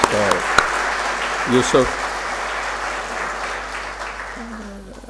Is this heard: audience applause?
yes